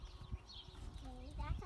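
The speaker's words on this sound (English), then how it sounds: "she was Ariana's mom's horse when she was little" A horse on a farm in spring, with hooves clip-clopping and soft animal movement close by while people talk over it.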